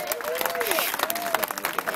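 Audience applause for educators at a political campaign event, a short burst of clapping and cheers from a crowd with voices and whoops rising over it.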